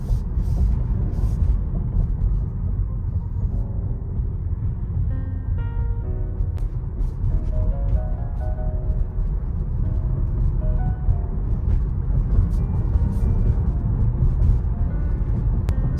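Tesla Model Y fitted with a noise reduction kit, driving at around 40 on auto drive, giving a steady low road rumble inside the cabin with faint tonal hum and occasional light clicks throughout.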